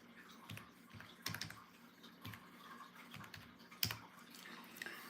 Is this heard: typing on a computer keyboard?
yes